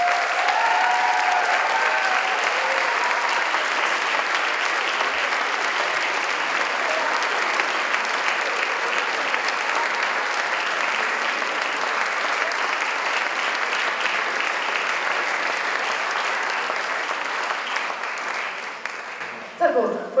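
A school concert audience at a gymnasium's annual year-end concert keeps up long, dense applause for about twenty seconds. It stays broad and steady, then thins near the end with a few louder claps.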